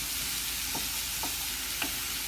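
Chili stirred into peppers and cauliflower rice in a hot pan makes a steady, dense sizzle, with three soft stirring scrapes spaced across it and no voices.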